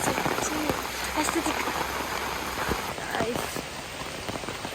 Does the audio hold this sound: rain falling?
yes